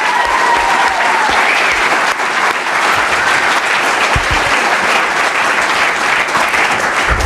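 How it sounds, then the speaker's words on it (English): An audience at a 2017 mayoral and city council debate in Pleasant Grove applauds the mayoral candidates, producing loud, dense, sustained clapping from a large crowd with no voices. "Let's give one more round of applause to Guy Fugal and Cyd LeMone."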